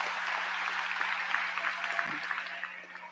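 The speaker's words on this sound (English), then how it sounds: "And by the way, teachers, another round of applause for them." A high school graduation crowd applauds teachers at the Glen Burnie High School 2024 commencement, a dense, steady wash of clapping from a large audience that holds evenly and tapers slightly at the end, with a faint low hum underneath.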